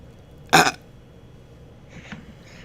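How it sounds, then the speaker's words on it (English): A single short, loud burp rings out close by, followed by quiet room tone and a faint voice murmuring afterward. "And that one came with a free burp."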